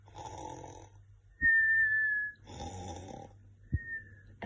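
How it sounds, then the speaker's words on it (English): A cartoonish voice performs loud snores for Sleeping Beauty in a children's story, two long rasping inhales each followed by a high whistling exhale, close and alone. "A fairy heard Aurora's loud snores and moved her into her comfy bed."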